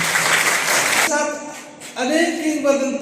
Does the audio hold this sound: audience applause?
yes